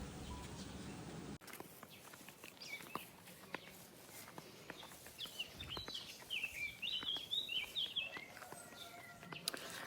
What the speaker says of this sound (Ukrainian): Ви чуєте, як пташечки співають.